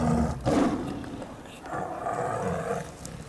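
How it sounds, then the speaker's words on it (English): A tiger at Heathrow airport gives deep, rumbling growls in two long bursts, fairly close and loud, over a low background hum with a faint voice. "The tiger hasn't eaten since leaving Greece."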